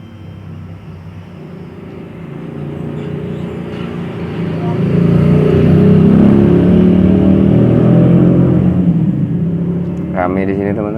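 Busy roadside traffic rumbles steadily and grows louder as vehicles pass, a continuous low roar with a brief horn-like tone near the end.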